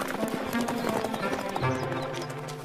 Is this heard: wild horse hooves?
yes